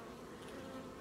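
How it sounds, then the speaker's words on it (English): A honeybee with deformed wings from a viral infection buzzes steadily at a hive in a collapsing colony, a continuous close drone with no voices. "Here's another bee with the virus right here"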